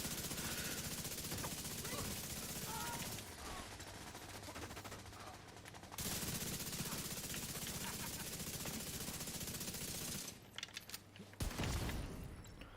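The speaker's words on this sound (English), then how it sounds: "Love that True Patriot explosion." Gunfire and a True Patriot explosion in the Division 2 video game: dense rapid bursts of shots and clattering impacts over a low rumble, with a few sharp breaks near the end.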